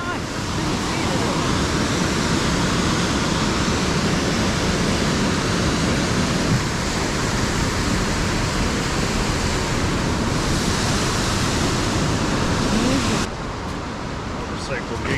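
Waterfall near Milford Sound in Fiordland National Park, a dense, constant rushing roar of falling water, loud and close throughout with faint voices beneath it.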